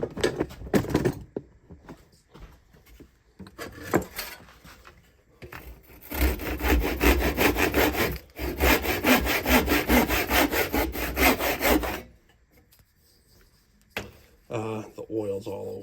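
An old restored hand saw cuts through wood in rhythmic back-and-forth strokes, starting with scattered short rasps before a sustained run of steady sawing, then quiet handling and a brief voice.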